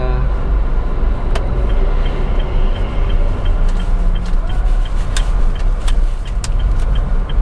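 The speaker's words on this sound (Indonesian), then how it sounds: "ada bus Transjakarta" Steady, loud road traffic rumble in Jakarta with a Transjakarta bus among the vehicles, a continuous low engine drone and passing noise, with occasional brief clicks and a faint voice now and then.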